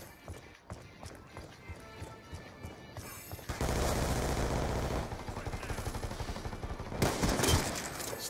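Gunfire in Call of Duty Black Ops 2 during a sniping match, bursts of rapid shots and sharp cracks coming in clusters, loudest in the second half, with game effects and faint voices mixed in.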